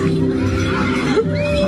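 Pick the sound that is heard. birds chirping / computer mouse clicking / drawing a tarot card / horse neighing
horse neighing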